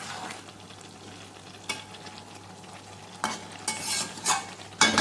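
Masala for chicken is stirred and braised in a pan, a soft low sizzle punctuated by several bursts of louder scraping as the spatula sweeps through.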